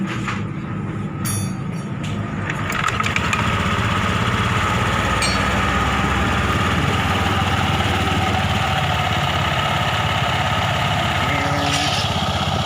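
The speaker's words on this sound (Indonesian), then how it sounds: "Sekarang motor kita hidupkan." A motorcycle engine starts and settles into a steady idle after a CVT service with a replaced slider, a brief start-up clatter followed by a continuous, loud, even mechanical drone close by, with no talk.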